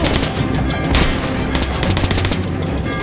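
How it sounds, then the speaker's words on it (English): An AK rifle in Metro 2033 Redux fires in rapid, sustained bursts, loud and close, with sharp cracks following one another with almost no pause. "I love this gun! The AK is amazing!"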